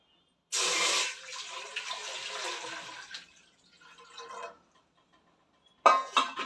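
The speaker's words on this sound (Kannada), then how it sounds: "ಈಗ ಪಾತ್ರೆ ಇಟ್ಟಿದ ನಂತರ ನಾವು ನೀರನ್ನು ಹಾಕಬೇಕಾಗುತ್ತೆ" Water poured into a cooking pot set on a stove, a strong steady stream for a few seconds that tapers to a thinner trickle, then a short burst of pouring again near the end.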